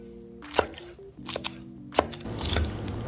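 A knife chops scallions on a board in two or three sharp, close knocks spread over a few seconds, with quiet kitchen background between.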